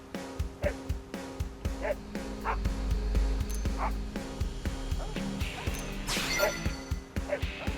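Dogs in a city within the video game Xenoblade Chronicles X bark and yip repeatedly in a steady rhythm, moderately loud, with whimpers and a sudden crash-like burst near the end, no speech.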